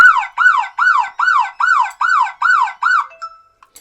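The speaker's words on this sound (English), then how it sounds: "if you take the keypad off, it does make a siren." An Aqara U200 smart lock sounds its tamper siren once the keypad is removed, eight loud rising-and-falling electronic wails in quick succession that then cut off abruptly.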